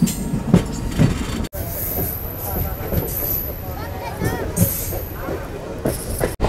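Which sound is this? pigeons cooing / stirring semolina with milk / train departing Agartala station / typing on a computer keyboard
train departing Agartala station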